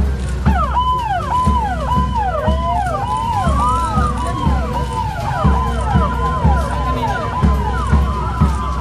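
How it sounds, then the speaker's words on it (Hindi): A loud wailing siren sweeps up and down continuously, with overlapping siren tones layered over a low rumble of traffic or engines. "siren siren"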